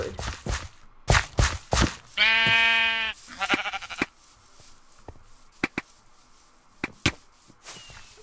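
Sheep bleating in the Minecraft video game, a single long wavering bleat amid scattered sharp clicks and footstep-like game sounds, fairly close and clear.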